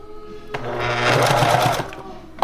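A domestic sewing machine runs a short straight line of stitching down the center of cotton face mask fabric, a steady close mechanical whir lasting about two seconds.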